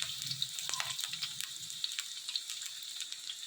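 Onions, green chillies and carrots fry in a pan with a bright, crackling sizzle and scattered sharp pops, steady and fairly close throughout.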